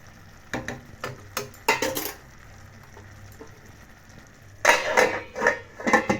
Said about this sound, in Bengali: একটু নাড়াচাড়া করলে হয়েই যাবে